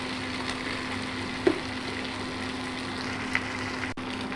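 Vegetables frying lightly in a pan with spices and salt for a school lunch box recipe, a steady soft sizzle with an occasional faint clink, under a constant low hum.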